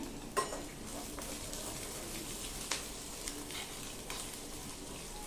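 Asafoetida tempering crackles in hot oil in a pan for curd rice, a soft, continuous sizzle close by with a few faint clinks of a utensil against the pan.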